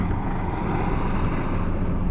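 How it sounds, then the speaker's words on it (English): A helicopter flies overhead in a city, its loud, steady broadband rotor and engine roar filling the air without pause. "a helicopter overhead"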